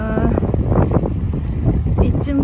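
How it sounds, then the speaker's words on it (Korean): Strong, cold wind roars steadily across the microphone during a bicycle ride in Japan, a continuous broadband rumble with gusts, while a voice speaks briefly over it. "바람이 너무 많이 불어서 너무 추워요"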